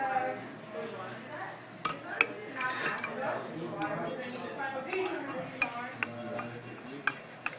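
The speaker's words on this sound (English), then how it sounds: "Just gonna try and stir up the precipitate," A utensil stirs a precipitate in a glass container, giving sharp scattered clinks and taps against the glass. A person talks over the stirring.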